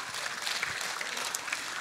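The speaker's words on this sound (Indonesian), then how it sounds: "Berikan tepuk tangan sama mereka." Brief scattered clapping from a small group, faint and thin, lasting under two seconds.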